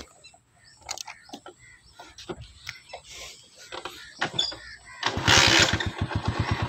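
A motorcycle engine is switched on and starts up after a stretch of talking and small clicks, then settles into a loud, steady rumbling idle close by.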